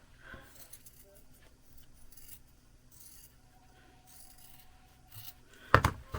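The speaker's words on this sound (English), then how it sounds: "So we're going to cut this off." Scissors cut through paper while a junk journal book cover is trimmed, with faint snipping and rustling and one sharper, louder cut near the end; a voice speaks quietly at times.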